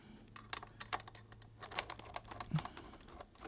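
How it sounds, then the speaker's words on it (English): Phillips head screws are unscrewed from a Radiomaster TX16 radio transmitter: close, busy clicking and light plastic ticks with a faint low hum beneath, all fairly quiet. "there's 4 Phillips head screws. So we'll just unscrew."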